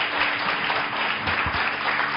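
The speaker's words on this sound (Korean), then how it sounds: "우리 하나님께 감사의 박수 올려드립니다." A church congregation applauds during an early-morning worship service, a dense, steady wash of clapping hands close by that carries on without break, with no voice over it.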